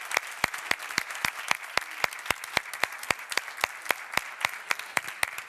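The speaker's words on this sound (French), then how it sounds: "Un fort applaudissement à tous les intervenants de cette table ronde." Audience applause after a round-table panel at a world rural forum conference: a thin, steady stream of sharp individual claps at a brisk rhythm, moderately close, with no talking over it.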